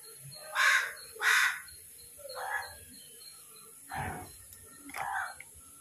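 Crow cawing in an outdoor home setting: five separate calls, two strong ones close together early, then three more spaced apart at moderate distance over a steady background hum.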